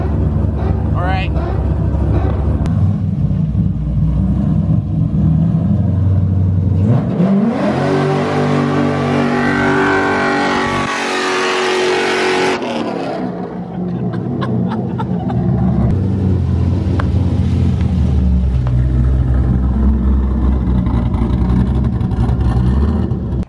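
A car engine revs hard and close, climbing to a loud sustained roar in the middle of the stretch before dropping back to a rough idle, with voices around it.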